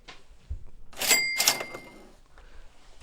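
A Christmas-themed cash register sound effect plays in a studio: a bright ringing chime and drawer clatter in two quick bursts, fairly close, with no talking over it.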